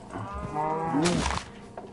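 A cow from the video game Minecraft gives one long, drawn-out moo that rises and falls, clear and close, with no talking over it.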